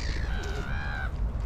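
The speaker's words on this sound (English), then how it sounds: "Well, the pigeons at least." Pigeons cooing in Christchurch Meadows, a city park in cold weather, with a close, clear descending coo over a soft bed of outdoor background noise.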